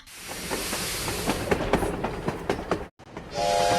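Steam locomotive in a mobile train-building game, with a steady rumbling run and rhythmic clatter, then a brief dropout followed by a loud whistle-like tone.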